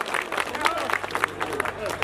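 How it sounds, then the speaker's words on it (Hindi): Villagers clap at a temple consecration festival in Kala Pipal ki Dhani, Rajasthan, a steady patter of many hands ringing out under someone speaking over a loudspeaker. "सर ताली बजानी पड़े"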